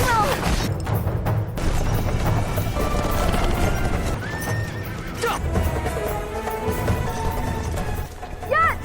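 Horses whinny loudly beside a horse-drawn carriage amid a busy kung fu film action scene, with neighs rising over clattering hooves, rumbling crashes and dense background noise; voices are briefly mixed in.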